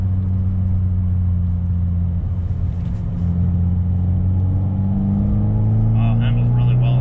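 A Fiat 500 Abarth drives through a series of corners, its engine holding a steady, close droning rumble from inside the cabin that rises slightly near the end, with someone talking over it.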